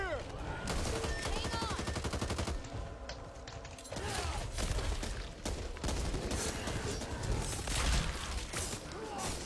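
Gunfire in the video game Back 4 Blood, dense rapid bursts of automatic shots over a continuous loud game soundscape, with players talking at times.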